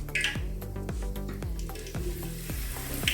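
Spinach leaves deep-fry in hot oil with a dense, continuous crackling sizzle, close up, while regular knocks from a utensil against the pan sound at roughly half-second intervals, with a low hum beneath.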